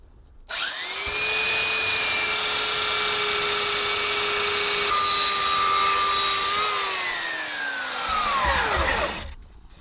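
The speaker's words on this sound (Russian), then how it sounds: "Ну и дальше, собственно, берем шлифовальную машину." A power sander whines on wood while smoothing a homemade hot pad trivet, starting abruptly and running loud and steady for several seconds, then dipping in pitch and winding down to a stop, with no talk.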